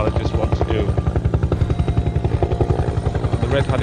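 A red helicopter comes down to land in a car park near Dún Briste in Mayo, its rotor pulsing in a loud, steady, rapid chop throughout.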